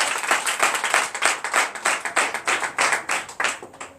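A church congregation at a night deliverance service claps in a brisk, steady rhythm, many hands striking together in sharp repeated bursts with no voices over it.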